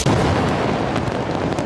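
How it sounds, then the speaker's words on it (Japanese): A huge explosion in the horror video game Silent Hill 2 Remake thunders as a loud, sustained, rumbling blast with crackling debris across the whole moment, with no voices over it. "大爆発エンドだわ。"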